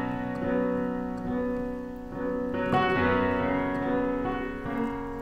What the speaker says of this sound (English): Okay, so now you can hear that we have reverb on the sound.